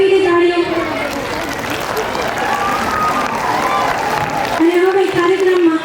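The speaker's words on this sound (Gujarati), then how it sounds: "એકવાર ફરીથી તાળીઓ" An audience at a school annual function applauds the participating students with sustained clapping, while a voice speaks over it through much of the applause.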